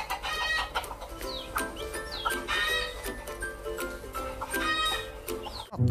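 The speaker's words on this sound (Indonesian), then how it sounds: "Ayam berkokok." Rooster crowing and clucking fowl in the dinosaur park game Jurassic World Evolution 2, repeated calls close and clear over steady background game music, with a sharp thud near the end.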